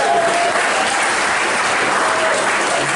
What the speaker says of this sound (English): I think we do need to have a round of applause